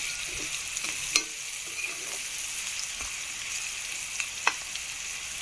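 Andhra egg curry masala cooking in oil in a pan, a soft steady sizzle with a few sharp scrapes and clicks of stirring, close and fairly quiet, no voices.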